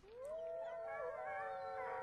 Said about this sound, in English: I saw around us a circle of wolves. All at once, with the appearance of the moon,